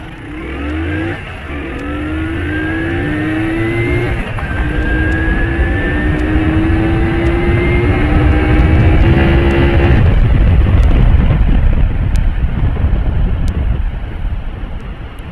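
A motorbike fitted with a fan-dimmer speed modification accelerates hard up through third gear. The loud, close engine whine climbs in pitch and drops sharply at each gear change, with no talk.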